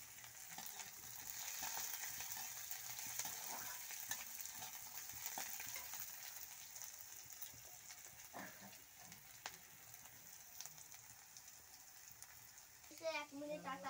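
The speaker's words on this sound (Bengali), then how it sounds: "বাদামগুলো একটু ভাজতে হবে" Peanuts fry in a pan with a soft, continuous crackling sizzle at low level, with faint stirring scrapes and a short clatter near the end.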